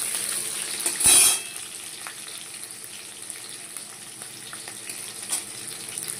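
Nigella seeds, whole garlic and green chillies fry in oil with a continuous sizzling hiss, opened by a brief louder burst and followed by faint occasional crackles and pops.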